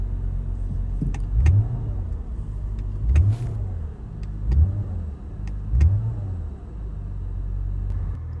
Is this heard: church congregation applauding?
no